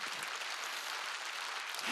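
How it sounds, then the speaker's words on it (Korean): Church congregation applauding during a worship service, a steady, fairly faint wash of many hands clapping for two seconds with no voice over it. "믿어 박수로 하나님께."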